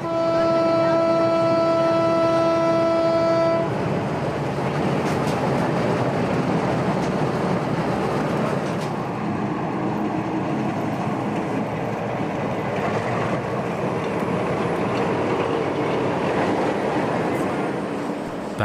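A model steam locomotive rumbles steadily along the rails, with a sustained horn blast at the start, then continuous clattering and roaring motion noise throughout.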